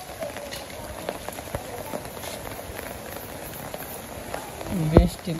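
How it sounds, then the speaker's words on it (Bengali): Steady rain patters softly on surfaces in a Bangladesh village, a faint continuous hiss beneath people talking, with a sudden louder clatter close by near the end. "বৃষ্টি মোটামুটি ভালোই নামছে"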